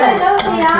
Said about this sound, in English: go on Ben, give it a whisk